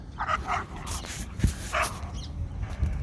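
Several sharp barks from a dog, irregular and moderately close, over a quiet outdoor background.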